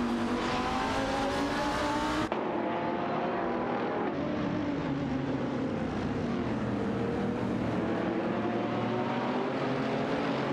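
Racing video game engines from a Jaguar XKR GT3 and Morgan Aero 8 GT2 snarl loudly and continuously, with a sharp cut after two seconds into a lower engine note that rises and falls as the cars duel.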